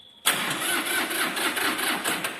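A Mitsubishi MT170 mini tractor engine cranks and catches, then runs at a steady loud chugging idle close by.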